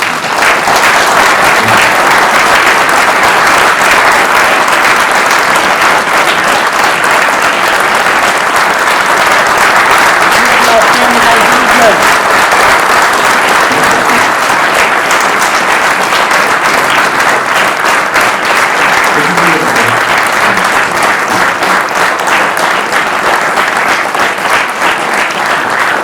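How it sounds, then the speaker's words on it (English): Audience applause after a talk: dense, sustained clapping from a sizable crowd, steady and loud throughout with no speech over it. "Did you hear the clapping?"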